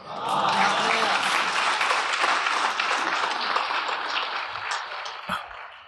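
Audience applause at a Gujarati poetry recitation at a literary festival in Vadodara, a sustained, dense wash of clapping from a large crowd that holds steady for several seconds and then begins to thin out.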